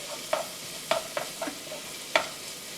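A spoon stirs ingredients for kibbeh in a home kitchen, five or six sharp knocks against the pot spaced irregularly over a soft sizzling background, with no one talking.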